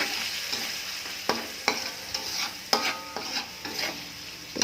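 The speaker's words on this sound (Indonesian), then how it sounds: "tumis terus sampai airnya agak kering sedikit, sampai tomat dan cabenya agak layu-layu" Spice paste with tamarind water, tomato and chili sautéing in a pan for a Kalimantan-style dish: steady frying sizzle with repeated sharp clinks and scrapes of a utensil stirring, close and clear, no talking.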